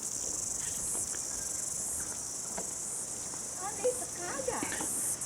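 A dense, high buzzing drone of insects fills the air continuously, with faint rustles and a few soft knocks underneath.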